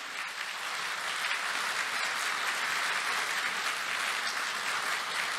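Sustained applause from a large congregation at the 2023 Korean churches' joint Easter service at Youngnak Church, a steady dense wash of clapping filling the hall without pause.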